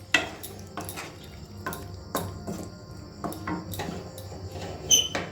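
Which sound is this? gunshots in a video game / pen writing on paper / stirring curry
stirring curry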